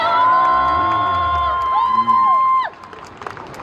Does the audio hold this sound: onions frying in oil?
no